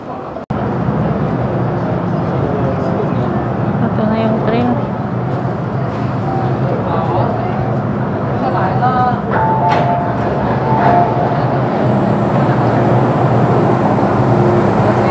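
Train station platform, busy and echoing with continuous rumbling ambience, chatter, and scattered clanks and beeps while people wait for a train.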